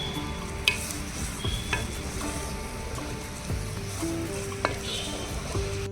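Tempering for urad dal chutney sizzles steadily in a hot pan, with a continuous crackling fry and a few sharp pops and stirring clinks throughout, close and fairly loud, with no talking.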